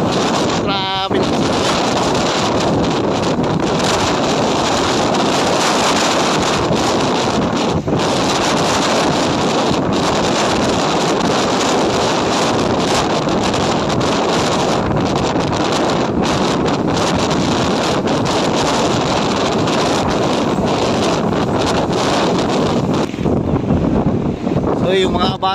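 Waves slosh and splash against a boat in rough, stormy seas during a rescue of people at sea. Strong wind roars constantly over the microphone and largely masks the water.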